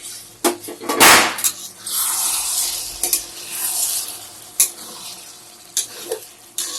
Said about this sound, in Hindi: इसको बीच बीच में हम चलाते रहेंगे ताकि वो नीचे से जल ना जाए।